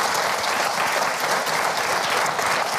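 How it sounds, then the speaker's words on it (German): A television studio audience claps steadily in dense, even applause that fills the whole stretch, close and continuous with no pause. "Sie können auch klatschen, meine Damen und Herren."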